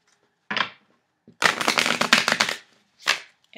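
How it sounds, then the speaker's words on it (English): Tarot cards riffle and snap in a quick crackling burst, framed by a few shorter flicks before and after, close by with no voices. "So to do a good shuffle with them,"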